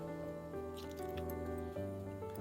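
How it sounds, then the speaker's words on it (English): Water is poured into the jar of a KRUPS electric spice and coffee grinder holding garlic, giving a soft, steady liquid dribble and squish close by. "Let's add little bit of water."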